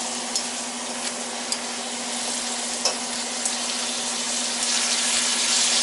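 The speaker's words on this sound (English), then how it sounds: "So just kind of pre-cooking it a little bit here" Meat precooks in a pan with a continuous close sizzle and soft crackle, a few faint scrapes and clicks from stirring, and a steady low hum running underneath.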